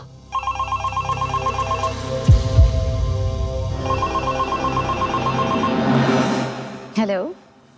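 A telephone rings in repeated bursts of a trilling electronic tone, with background music and brief voices and thumps partway through.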